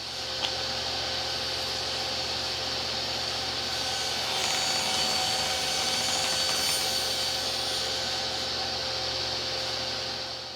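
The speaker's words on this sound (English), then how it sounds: "I'm using my precision miter sled to make these cuts at 10 degrees." A saw on a precision miter sled cuts wooden clamp parts at 10 degrees, making a steady, loud, close whine that holds for about ten seconds and swells slightly midway.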